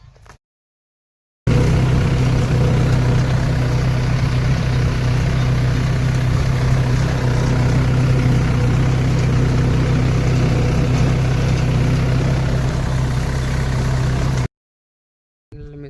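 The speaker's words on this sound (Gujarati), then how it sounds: "હમણાં પાછું ટ્રેક્ટર આવે છે" A farm tractor engine runs at a steady, loud idle-like drone, starting abruptly after a brief quiet and cutting off near the end, with no talk over it.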